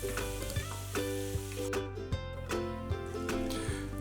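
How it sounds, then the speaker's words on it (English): Finely chopped white or yellow onion sizzles steadily in a hot pan, a close, continuous fry with recurring soft clicks and stirring knocks every half second or so, with no voices. "Next, we're going to add about a half of a white or yellow onion that we've finely chopped."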